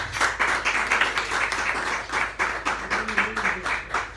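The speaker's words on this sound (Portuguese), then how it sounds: "E todas as palmas para o nosso Senhor Jesus." Congregation at an evening prayer service clapping together in steady, continuous rhythm, a dense close burst of many hands lasting throughout with faint voices underneath.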